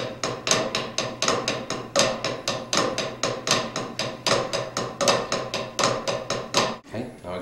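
Sharp snare drum flam accents in a fast, steady triplet rhythm with regular accents, played alone and close, stopping abruptly near the end.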